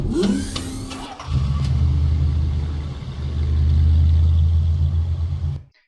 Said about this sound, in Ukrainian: Який цікавий зелений автомобіль.